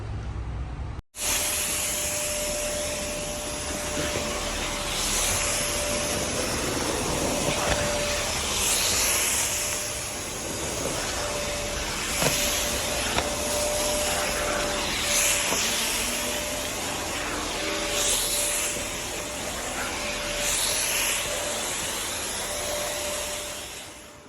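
A household vacuum cleaner runs steadily through a home cleaning routine, a loud, continuous close whine and hiss with a constant tone, rising and falling slightly as it moves over the floor, no talking.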